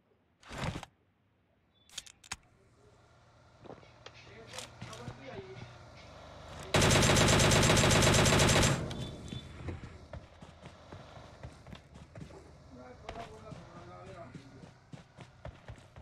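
A loud two-second burst of rapid automatic gunfire erupts in a PUBG Mobile match, set among quieter footsteps, clicks and game sounds while a player talks.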